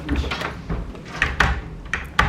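A locked connecting door in a hotel room is tried, giving a few soft, close rattles and knocks spaced across a couple of seconds.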